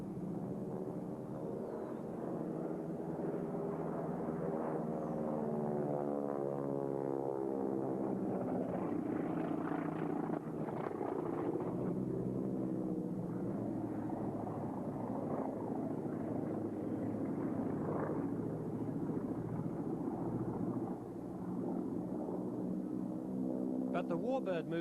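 A Harvard warbird trainer aircraft flies at the 1992 Australian International Air Show at Avalon, its radial engine giving a steady throbbing drone that holds throughout, with a voice talking over it.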